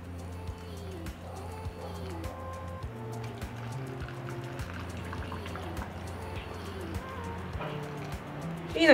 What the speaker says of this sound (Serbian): Proključenu vodu sipaću u teglu i napunit ću do vrha